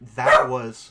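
A dog barks once at close range, a short sharp burst that overlaps a person talking.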